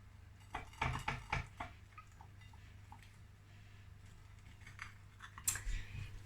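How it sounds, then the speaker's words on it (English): Cutting through a stuffed-crust barbecue mushroom pizza on whole wheat sourdough: a quick run of crisp, crunchy cuts up close early on, a few softer taps, then a quiet stretch before one last sharp scrape. "So the barbecue pizza is ready, so I'm gonna now slice it."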